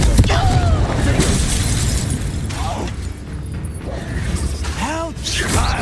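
Confringo blasting spell explosions in Hogwarts Legacy, booming crackling bursts and shattering debris layered with whooshing swept tones, dense loud combat noise throughout.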